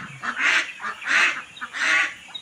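Ducks calling on a duck farm, three loud nasal honking calls in a row, close by, with short pauses between them.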